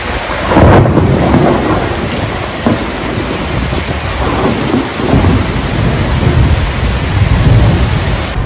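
Heavy thunderstorm with loud, dense rain pouring steadily on surfaces while deep thunder rumbles roll through repeatedly, close and powerful, with no voices.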